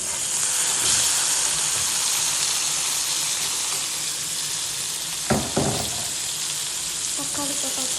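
Tomatoes fry in a pan for fish curry with a loud, steady sizzle throughout, broken near the end by a couple of clattering stirs against the pan.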